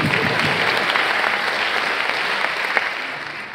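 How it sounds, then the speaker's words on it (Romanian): Audience applause at a comedy show, a full, steady roar of many hands clapping together at an even, fairly loud level throughout, with no voices on top. "Aplauze încă o dată și pentru toți colegii din seara asta."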